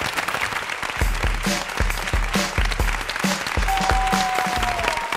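Audience applause opens a game-show round, a steady wash of clapping running alongside a pulsing rhythmic beat with tonal music throughout.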